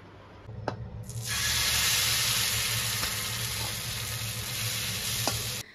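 Batter flatbread (gola ruti) fries in oil with a loud, steady sizzle that starts abruptly and holds for several seconds, close up, with a few faint clinks.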